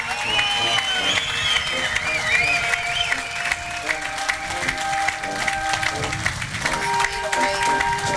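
A crowd claps and cheers at a Memorial Day event, the applause continuous and fairly loud for several seconds, with sustained tonal sounds running beneath.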